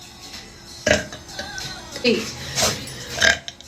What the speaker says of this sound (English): See, burp on command.